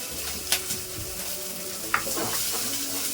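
Green chillies and crushed garlic fry in a hot pan with a steady, soft sizzle, broken by two sharp clicks of a spoon stirring against the pan.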